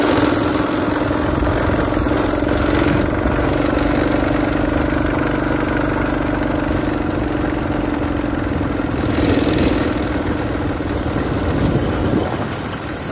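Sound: minibike engine during top speed test downhill

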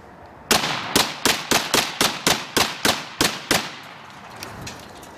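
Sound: Remington model 1100 shotgun firing repeated shots

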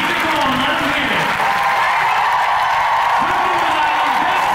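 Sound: concert audience applause for the crew

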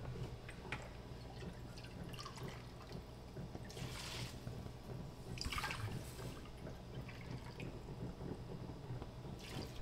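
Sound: pouring water into a pot

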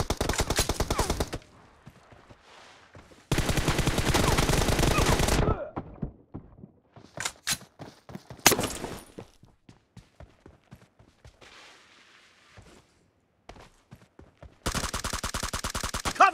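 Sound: M416 rifle gunfire in a video game

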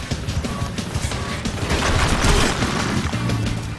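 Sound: grenade launcher firing in the video game NeverDead

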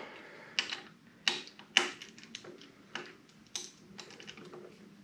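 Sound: unscrewing Torx bolts on a motorcycle lever

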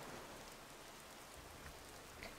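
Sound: rain ambience in the video game Gothic 2

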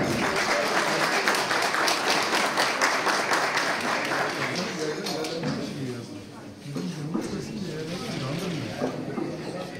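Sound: applause at farewell evening

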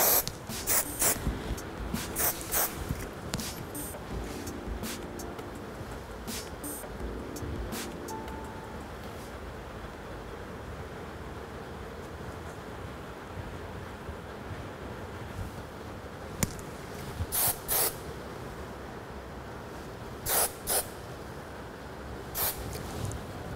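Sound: hairspray being sprayed on hair

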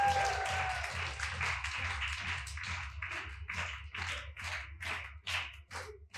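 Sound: audience applause

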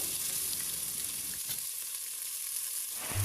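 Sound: onions frying in pan for mint pulav

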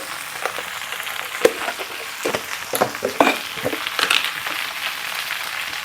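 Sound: pumpkin curry frying and being stirred

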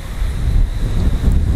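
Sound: strong wind blowing outdoors

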